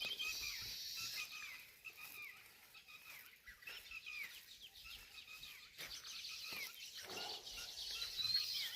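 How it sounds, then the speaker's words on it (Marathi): Small birds chirp and twitter intermittently in the distance on a farm with mango trees, over a steady outdoor hiss, with no voices. "पक्ष्यांचा आवाज येत असेल तुम्हाला, बघू शकता,"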